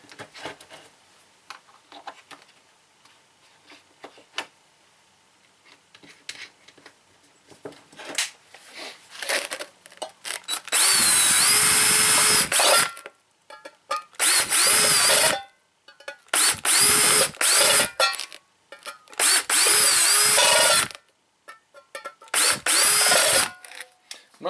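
A power drill bores holes in metal food cans for a wood gas camp stove, loud whining bursts of several seconds each separated by pauses with handling noises and quiet talk.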